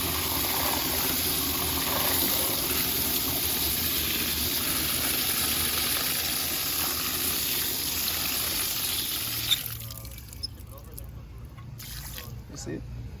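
Running water from a hose sprays steadily onto a car part during a GT3 RS / GT2 RS rebuild, a loud continuous hiss that cuts off near the end, leaving drips and faint clatter.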